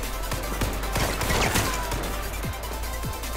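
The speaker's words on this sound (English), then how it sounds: "Uh-oh, getting shot at." Gunfire rattles in the H1Z1 video game, a scattered series of sharp cracks and pops of moderate loudness coming from several directions, with no speech over it.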